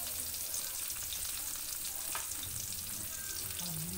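An eggplant omelette fries in oil, with butter or dairy cream brushed on: a steady, close hiss of sizzling that holds at an even level throughout, with a few faint scrapes and stirring noises underneath.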